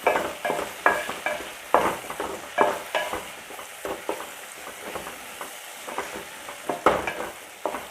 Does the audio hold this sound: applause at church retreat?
no